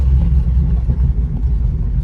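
A Mercedes 300SEL 6.3 V8 idling with no exhaust fitted gives off a loud, steady, deep rumble. The throbbing is thick with low-end pulses and holds constant, with no one speaking.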